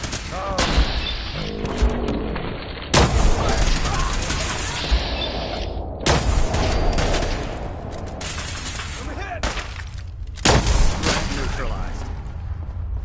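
Rapid bursts of automatic gunfire and heavy booms from a Fallout 4 battle with the Brotherhood, loud and close, coming in repeated volleys with shouted voices over the fighting.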